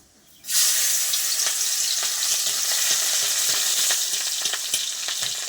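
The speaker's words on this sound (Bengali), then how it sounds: "রসুনটা হালকা ভেজে নেব, বেশি ভাজবো না।" Crushed garlic hits hot oil in a pan with a sudden loud sizzle that settles into a steady, close, crackling fry with small pops and light stirring.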